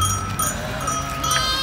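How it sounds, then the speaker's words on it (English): Sheep bleat amid a steady outdoor hum on a road in Bosnia, with a faint clank like a bell among the animals; no talking. "My God, the sheep are here."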